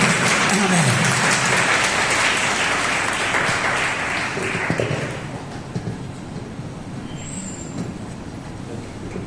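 A church congregation claps to welcome pastors: loud, dense clapping for about five seconds that thins and fades into background noise and faint voices.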